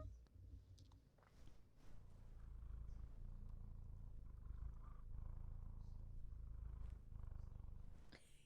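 A black cat with a white belly purrs up close, a steady low rumbling purr that stays continuous and fairly loud throughout, with no voices over it.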